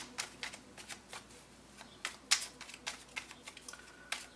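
Tarot cards being shuffled and drawn during a love reading, a run of soft papery riffles and flicks at close range with a few sharper snaps, fairly quiet and without talk.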